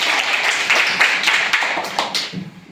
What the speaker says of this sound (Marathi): अनुश्रीसाठी सगळ्यांनी टाळ्या